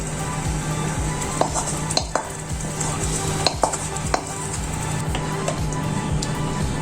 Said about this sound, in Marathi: आपल्याला आता याला कंटिन्युअस मिक्स करत राहायचं आहे